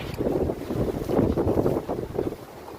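Strong wind of 35-40 knots roars steadily across the microphone on a boat in a stormy Atlantic Ocean, with rushing water over big waves and the hull rising and falling underneath, loud and continuous.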